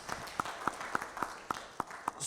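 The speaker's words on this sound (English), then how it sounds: "I have to stop with a round of applause for Tshepo" Sparse, evenly spaced claps of applause for a student panel speaker at a BRICS conference, about nine sharp hand claps over quiet room tone.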